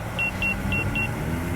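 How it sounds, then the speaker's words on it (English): Four short, evenly spaced high electronic beeps from the obstacle-avoidance warning on an Autel EVO drone, clear above a steady low rumble of background noise. "That's the beeps from the obstacle avoidance."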